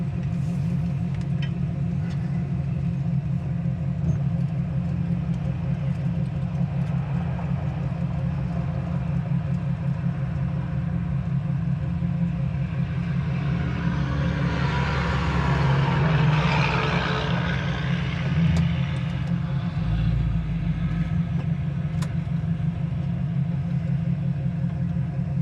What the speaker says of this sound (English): It does have a nice great rumble. idle too.